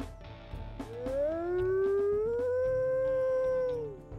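A single long wolf howl from WolfQuest rises smoothly, holds a clear sustained pitch and then fades, loud and close against soft background game ambience.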